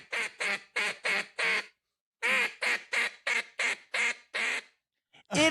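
A series of loud, close duck quacks comes in two rapid bursts of about five and eight calls, separated by a short pause, with another call starting at the end; no talk.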